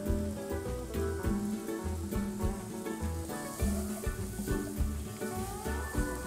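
Diced sweet onion sautés in seasoned oil with a soft, crackling sizzle, heard under background music with a steady beat.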